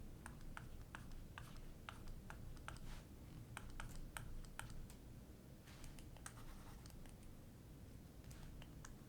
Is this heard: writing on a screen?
yes